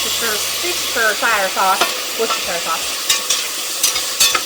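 Mushrooms cooking in a pot as Worcestershire sauce is stirred in: a loud, close sizzle with repeated scraping and clinking stir strokes, some wet squeaky tones early on.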